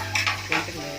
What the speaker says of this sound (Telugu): మెల్లగా కలుపుకోవాలి. అంటే గుడ్లు తగలకుండా